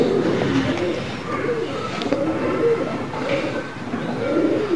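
A newly caught pet pigeon coos up close, giving soft repeated throaty rolls in a steady rhythm, loud and clear with faint background noise.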